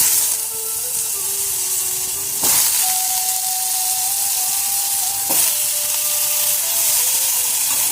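Potatoes frying lightly in a pan, a steady close hiss and sizzle with a couple of sharp clinks from the pan or utensil.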